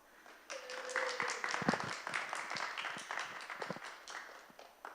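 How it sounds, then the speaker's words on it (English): An audience claps together, a dense burst of applause that swells and then gradually thins out over a few seconds. "please give them a big round of applause"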